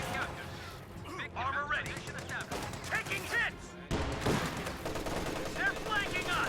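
Gunfire from the strategy game Company of Heroes, armor-piercing rounds fired at a Stuart tank, comes as dense bursts of shots and impacts that continue throughout, with a commentator talking over them.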